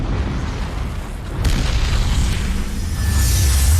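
A massive explosion tears through the planet Shakuras in StarCraft 2, a deep rumbling boom that swells after a sharp burst, low and sustained with a brighter crackle building toward the end.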